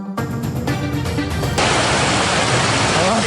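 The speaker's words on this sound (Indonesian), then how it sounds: "Jebolnya tanggul membuat air mengalir deras ke jalan dan permukiman warga." Floodwater rushes through a breached levee on the Cabean River at Tologowerlu village in Demak, Central Java, pouring onto streets and homes. It makes a loud, steady broadband roar that continues without a break and becomes even denser partway through.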